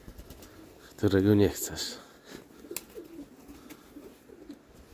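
Domestic pigeons coo in a loud, close burst of a second or so, with someone talking around them. The birds are kept in a backyard loft with a garage nearby.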